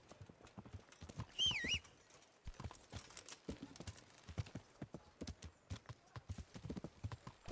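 Hooves of a horse in the video game Kingdom Come clip-clop steadily at a walking pace, moderately close, with a brief whinny early on.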